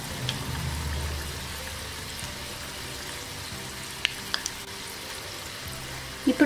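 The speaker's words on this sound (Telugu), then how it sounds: "మనకి బోండాలు కొద్దిగా వేగాక మనం గరిటతో తిప్పుకున్నాం అంటే రెండో వైపు కూడా చక్కగా వేగుతాయి." Bondas deep-fry in oil, a soft, steady bubbling hiss at low level, with a few faint ladle clinks near the end.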